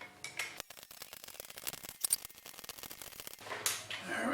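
Small wrenches clicking and clinking against metal bolts while mounting a Trenton anvil onto an old stump, a dense run of quick, light metallic ticks and taps close by, with a brief scrape near the end.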